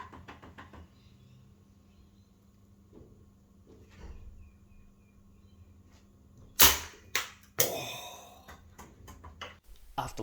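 A homemade self-aiming robot launcher fires Maltesers with a series of sharp, loud snapping bursts and clacks at close range, following a quieter stretch of faint mechanical clicks and soft taps.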